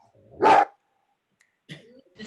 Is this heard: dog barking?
yes